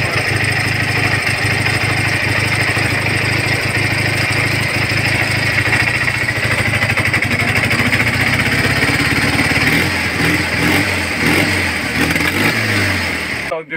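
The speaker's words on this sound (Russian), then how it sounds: "вот так вот заводим с полпинка, и он отлично работает" Soviet Ural motorcycle engine kick-started and running steadily, a loud continuous rumble throughout, with some changes in tone toward the end.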